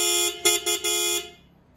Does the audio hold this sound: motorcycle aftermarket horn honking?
yes